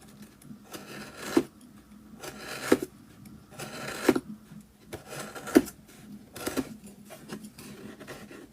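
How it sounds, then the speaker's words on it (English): A blade shaves a wooden part of a scale model French chateau roof in slow, regular scraping strokes about every second and a half, moderately faint and close. "You just need to shave a little bit off there."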